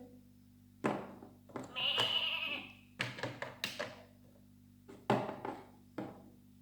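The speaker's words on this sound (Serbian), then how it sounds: "Ovo su ovce." Farm sheep bleat in a few short, loud calls close by, separated by pauses and interspersed with knocking thuds.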